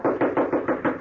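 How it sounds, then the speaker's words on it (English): Knuckles rap on a stable door, a radio drama sound effect: five evenly spaced, hollow knocks close up, with no voices. "I knocked on the stable door."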